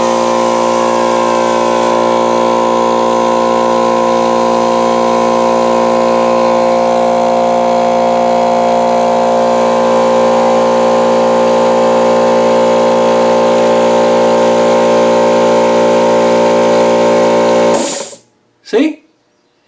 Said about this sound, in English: I'm going to let some pressure out by simply clipping in an air tool to the end and powering up this air tool